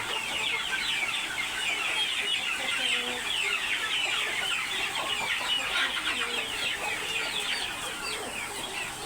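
A flock of chickens on a poultry farm during extreme heat keeps up a dense, continuous chorus of overlapping clucks and chatter, with no one speaking.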